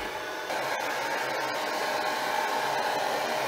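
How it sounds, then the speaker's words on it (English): A hairdryer blows steadily at close range while drying a painting, a continuous airy roar that grows slightly stronger after a moment and cuts off abruptly at the end. "now we're going to have to use the hairdryer"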